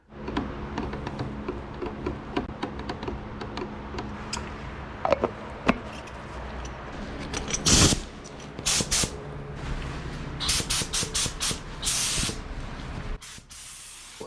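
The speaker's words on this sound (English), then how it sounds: "I am making sure my spray gun has the correct spray settings." Paint spray gun hissing in repeated bursts over a car's quarter panel, the masked and taped bodywork being painted at home, with steady close spray blasts of varying length and brief pauses between passes.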